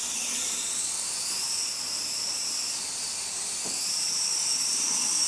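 A high-pitched electric motor in an FPV RC car whines steadily at full throttle, its pitch wavering slightly up and down, with a faint thump in the middle.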